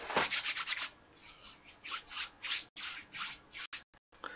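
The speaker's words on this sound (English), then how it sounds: "So doing these videos, I rub my hands together a hell of a lot." Hands rub together in a series of quick, soft swishing strokes, close and fairly quiet, with short pauses between bursts and no talking.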